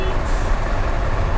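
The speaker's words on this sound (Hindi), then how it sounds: "राइड चालू करके 10 किलोमीटर भी नहीं हुआ और यहाँ पे इतना ट्रैफिक मिला है" Heavy road traffic with trucks on a motorbike ride out of Thane, a loud steady roar of engines and road noise close by without a break.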